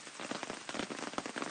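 Steady rain falls outside in New England, a dense, even hiss of drops striking surfaces with soft irregular patters throughout, close and continuous with no other sounds.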